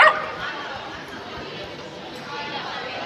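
A dog gives a short yip and whimpering sounds, mostly at the very start, with faint chatter and household noise continuing underneath.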